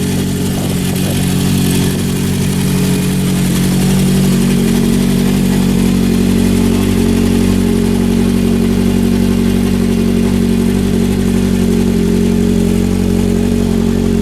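A 1972 Honda CB750 Four motorcycle engine idles close by, a steady, loud, low four-cylinder rumble with a slight rise in pitch as it warms, running without a break and with no talking.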